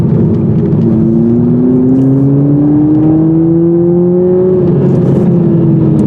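A 2021 Toyota Supra with the four-cylinder engine accelerates, its loud engine note climbing steadily in pitch through the revs, then easing slightly near the end, with no voices over it.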